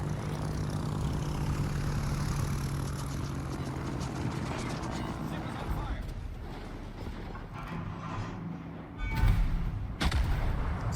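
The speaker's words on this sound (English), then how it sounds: "Still just gonna fire at the Chapayev." Warship guns fire in a World of Warships naval battle, with deep booming salvos over steady engine and ambient drone, and a loud cluster of shots near the end while a voice talks over part of it.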